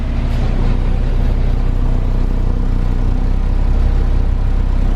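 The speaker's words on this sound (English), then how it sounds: "So let's go ahead and get a sound clip on this one." A Honda S2000 fitted with an aftermarket exhaust idles close by, giving a loud, steady, unbroken rumble with no revs or voices.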